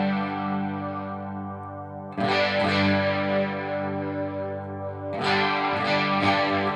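Electric guitar run through a Line 6 Helix chorus effect, several modulated copies of the signal giving a wide, shimmering tone: sustained chords ring out, then two bursts of fresh strums enter at a loud, steady level with no voices.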